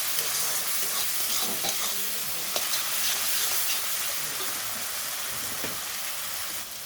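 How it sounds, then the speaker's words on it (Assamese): Masala of cumin powder and dried red chilli powder frying in a pan for a fish-head curry, a continuous crackling sizzle with scattered sharper pops and stirring scrapes, close and steady with no talk. "আৰু এতিয়া মছলাখিনি মই 2 মিনিট টাইম ভাজি ল'ম ভালকৈ"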